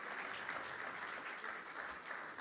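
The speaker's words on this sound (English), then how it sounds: "Can we please have a round of applause" Audience applause for cricketers Harbhajan Singh, Misbah-ul Haq, Ranveer and the 1983 World Cup team on the Salaam Cricket 2019 stage, a dense, steady clapping that fills the whole moment at moderate volume with no talk.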